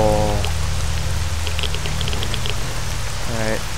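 Steady rain pours down in S.T.A.L.K.E.R.: Shadow of Chernobyl, a dense continuous hiss with scattered droplet ticks, loud and unbroken for the whole stretch, with brief tonal game sounds at the start and end.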